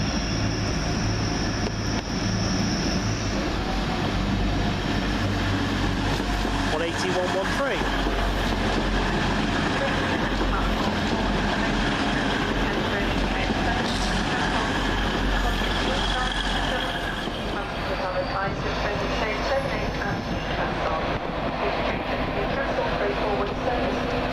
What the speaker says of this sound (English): Next train out, the 1325, first whole train service from Hull to London King's Cross